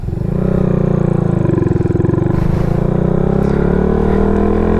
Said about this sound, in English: pulling the clutch, let off the gas, second gear, pulling the clutch, let off the gas, third gear